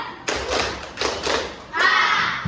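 Students in a classroom clap on a teacher's cue, giving three quick loud bursts of hand claps, and then voices call out together in unison.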